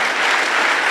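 A short burst of dense, loud applause from a training event audience, many hands clapping together and filling the room.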